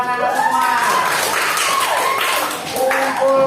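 Children in a classroom clapping, a quick flurry of hand claps mixed with voices and a sung or chanted phrase, fairly close and loud.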